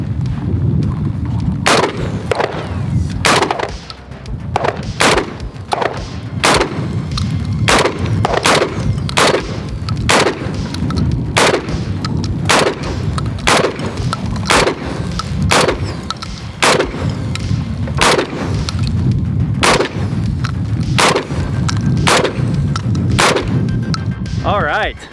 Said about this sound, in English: We just got some clays on the hill. We're gonna shoot at them. This is steel shot